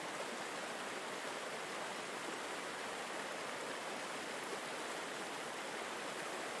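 A steady, full rush of falling water from a waterfall fills the whole stretch, an even broadband roar with no breaks, moderately loud and close, with no voices.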